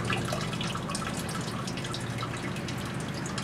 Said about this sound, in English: I'm not getting too crazy with pressing the liquid out of the grains.